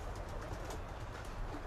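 Pigeons cooing and shuffling in a loft, a soft continuous murmur of low coos close by with steady rustling and no talk.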